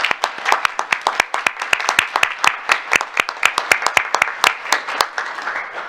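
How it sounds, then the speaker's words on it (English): Loud, close applause at a school board meeting for student music performers, sharp individual claps standing out in a fairly sparse, uneven rhythm that gradually slows and softens. "Please give these performers another round of applause."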